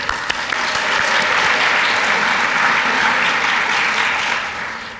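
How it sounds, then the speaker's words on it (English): An audience at an environmental awards celebration claps for the event's sponsors in a dense, loud burst of applause that swells quickly, holds steady, then tapers off at the close. "Another round of applause for our sponsors."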